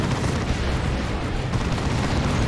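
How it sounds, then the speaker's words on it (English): A plasma cannon blast in Dawn of War 2, a Warhammer 40,000 battle between Imperial Guard and Chaos, rendered as a dense, loud, continuous roar of explosive rumble with no clear gaps, up close and alone. "Plasma Cannon with a big hit."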